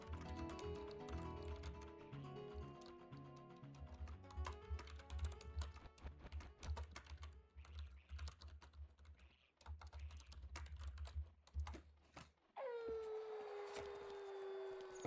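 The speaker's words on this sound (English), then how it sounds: "Let me type a message here." Rapid clicking of keys being typed on a computer keyboard, heard close up and mixed with loud game music and effects playing in the background.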